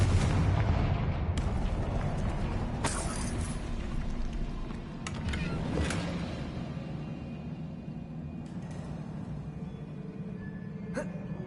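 The Confringo fire spell in the video game Hogwarts Legacy explodes with a loud burst, followed by a sustained rumbling roar and scattered sharp crackles that slowly fade.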